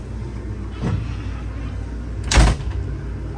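The screen door of a new Renegade Super C motorhome gives two sharp clacks, a lighter one and then a louder, fuller bang about a second and a half later, against a low steady hum.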